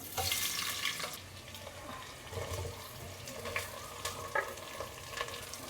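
Sliced onion and whole spices (cinnamon, cloves, cardamom) fry in hot oil in a biryani pot, giving a steady, faint sizzle with a louder burst at the start and light stirring scrapes. There is no talking.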